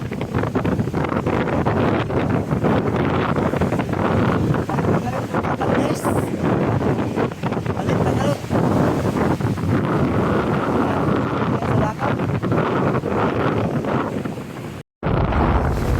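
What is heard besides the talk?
strong sea waves and wind during typhoon Krising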